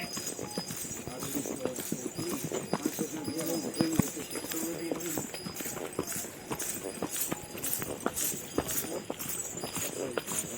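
Horse hooves clip-clop at a steady walking rhythm on the mountain path up to Vaishno Devi Bhawan near Jammu, with ongoing talk and crowd noise over the hoof beats.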